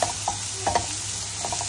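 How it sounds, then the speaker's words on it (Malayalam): Baby potatoes, boiled and peeled beforehand, fry in hot oil. A steady sizzle runs under several quick scraping stirs of the pan, close and fairly clear. "ഇതിലിട്ട് എണ്ണയിലിട്ട് മൂപ്പിച്ച് കഴിഞ്ഞാൽ ഈ മറ്റേ പൊട്ടറ്റോ നല്ലൊരു കളർ കിട്ടും"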